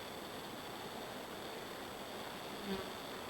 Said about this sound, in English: These bees might be ticked off at the queen.